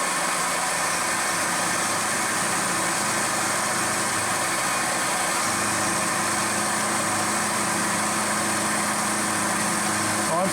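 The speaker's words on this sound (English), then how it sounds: "Alright, so let's take a light pass. About 25 thousandths." Milling machine taking a light conventional-milling pass of about 25 thousandths with a 10mm coated carbide cutter, a steady loud motor hum with a continuous high cutting whine throughout, a voice briefly heard under it.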